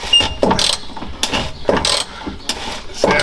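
Mechanism of a TX 375T tractor grinding, a repeated rough, ratcheting crunch in regular bursts about every half second, loud and close with no speech.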